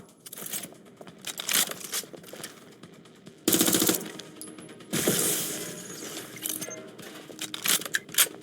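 Gunfire in the video game Watch Dogs Legion, with scattered clicks and clatter building to two loud bursts of shooting, followed by ongoing rattling and impacts at moderate volume.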